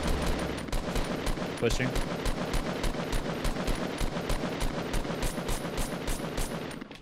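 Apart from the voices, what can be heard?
gunfire in the Fortnite video game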